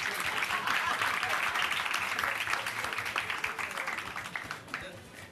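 A studio audience at a Pakistani television talk show applauds, a dense spread of clapping that starts full and slowly thins and fades, with voices faintly underneath.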